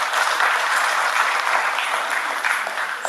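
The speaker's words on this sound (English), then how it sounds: "A round of applause for them." An audience at a job fair panel session applauds the panelists, dense steady clapping from a large crowd lasting throughout.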